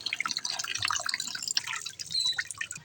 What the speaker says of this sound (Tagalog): Hugasan na natin to. Saluyot, saka alugbati.